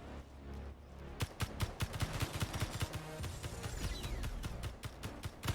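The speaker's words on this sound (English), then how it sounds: "crossed right in front of my gunfire" Rapid gunfire bursts from a Space Engineers battle against robots on a planet, loud repeated shots and fusillades over a steady mechanical hum, without talk.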